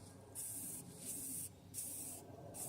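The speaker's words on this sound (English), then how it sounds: "Okay, spray the top." Spray paint hissing from an aerosol can onto the top of an old vice being restored, in three steady close bursts separated by short pauses.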